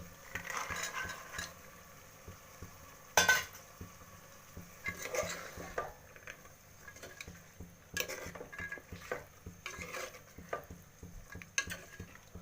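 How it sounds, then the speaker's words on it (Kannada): Peas tipped into a pan while making vegetable pulao, with scattered clinks of a spoon against metal and soft stirring and rustling. The sounds are intermittent and fairly quiet, with no talking. "ಈಗ ಇದಕ್ಕೆ ಬಟಾಣಿ ಹಾಕೋತೀನಿ."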